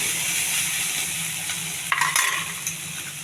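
Onion, ginger-garlic paste and tomato fry in a pan for a brinjal and peas curry, a steady sizzle with a few quick stirring scrapes near the end.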